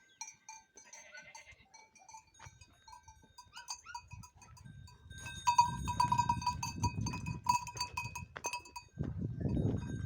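A flock of sheep moves along with bleating, clanking bells and shuffling hooves, growing louder and closer midway, with a burst of rustling at the end.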